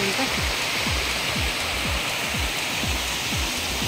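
Raikal Waterfalls in Telangana, with water pouring down from above in a steady, loud broadband rush that fills the scene without pause.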